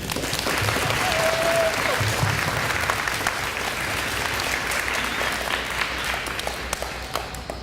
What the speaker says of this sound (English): So you should give yourselves a great big round of applause, please.